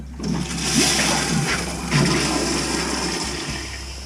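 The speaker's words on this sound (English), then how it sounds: "Flush that toilet" A household toilet is flushed after being unclogged with a plunger, giving a steady rush of swirling, draining water for about four seconds, loud and close, with a steady low hum underneath.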